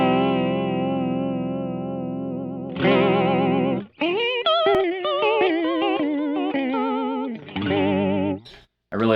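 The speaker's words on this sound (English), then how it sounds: "Let me do a full vibrato sound here." An electric guitar run through a pedalboard with a full vibrato effect, sustained notes wavering in pitch, then a brighter strummed section with warbling, slightly distorted tone and reverb tail, played alone with short breaks.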